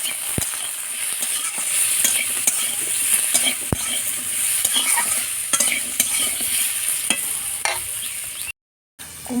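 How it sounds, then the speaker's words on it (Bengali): Potatoes with salt and turmeric stir-fried in a pan, a steady sizzle broken by frequent scraping and clacking spatula strokes, close up, with a brief cut to silence near the end. "আলুর মধ্যে লবণ, হলুদ গুঁড়ো দিয়ে আলুগুলো ভালো করে কষে নেব।"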